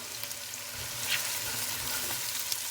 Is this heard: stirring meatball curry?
yes